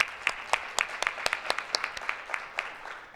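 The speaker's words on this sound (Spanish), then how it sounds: "para quien pido un aplauso muy especial antes de empezar." Audience applause at a mining plenary session of a conference, a steady patter of many hands clapping at moderate distance, continuing evenly throughout without talk.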